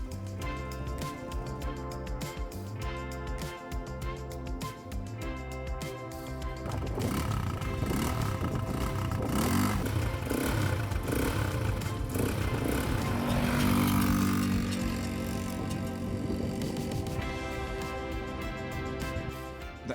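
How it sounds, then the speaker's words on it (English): A cheap Tiger ATV engine revs and accelerates while riding off-road: a steady droning buzz that grows louder and rougher midway, then settles back. "The engine is quite powerful and torquey here. It speeds up pretty swiftly"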